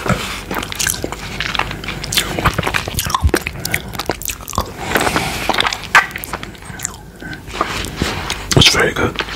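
Mochi yuzu ice cream is bitten and chewed up close, giving soft sticky, wet mouth sounds with occasional crisp clicks, and some faint low voice beneath.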